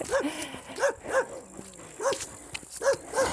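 Dogs behind a fence barking at a passing long-haired German Shepherd, repeated sharp barks in an irregular rhythm at moderate distance, fairly faint outdoors.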